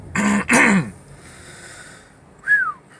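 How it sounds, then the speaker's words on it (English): Two harsh, close coughs in quick succession, followed by a quiet breathy pause and a short rising-falling whistle-like wheeze. "I haven't coughed like that in a little while."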